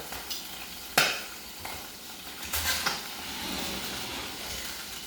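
Scallops sizzle and crackle in a pan while a utensil clanks and scrapes against it a few times, close by and with no talking.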